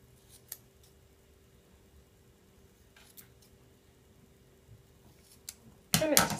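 Scissors trimming a paper book label, a few faint, brief snips spaced apart in a quiet room, ending in a short louder rustle.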